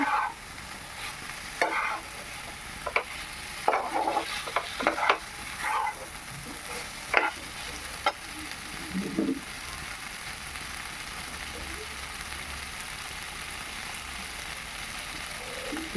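Boiled potatoes frying in a pan for ghugni give a steady sizzle, broken early on by several scraping stirs and spatula knocks, after which the sizzling carries on alone at an even level.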